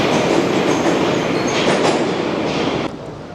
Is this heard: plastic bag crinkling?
no